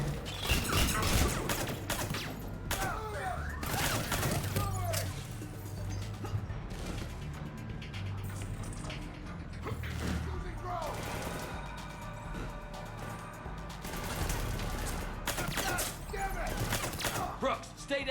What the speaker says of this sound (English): Oh, that's a lot of grenades.